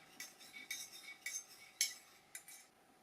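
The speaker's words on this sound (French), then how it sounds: "Peut-être remuer un petit peu si besoin." A spoon clinks against the inside of a cup of cacao drink, roughly six light, sharp taps in an uneven rhythm, close and fairly quiet, with no talking.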